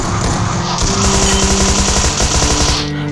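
Rapid automatic gunfire from the video game PUBG Mobile rattles in a loud, continuous burst that fills the whole moment, with overlapping shots and no speech.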